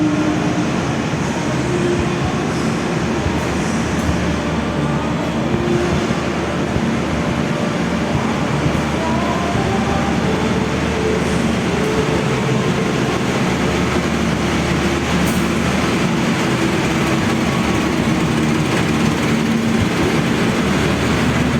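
The Jaka Tingkir passenger train on the Solo Balapan–Pasar Senen route passes close by. A loud, unbroken rumble of wheels and carriages runs the whole time, with no voices.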